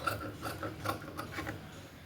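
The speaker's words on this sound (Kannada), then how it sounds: "ಆ ಮಾರ್ಕ್ ಪ್ರಕಾರ ಕಟ್ ಮಾಡ್ತೀನಿ" Scissors cutting blouse lining fabric along a marked line, a close run of repeated crunching snips and rasping fabric rubs at a steady rhythm, with no speech.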